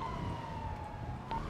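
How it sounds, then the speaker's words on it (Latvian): Police sirens in a video game wail as one faint, steady rising-and-falling tone under a low rumble of engine and background noise, lasting only a moment. "Braucam pie sirēnām, es dzirdu vēl menti."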